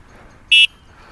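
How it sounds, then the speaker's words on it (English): A single short, loud electronic beep from the horn of a Fiido L3 electric bike, sounding alone for about a fifth of a second against quiet surroundings. "now the horn's working"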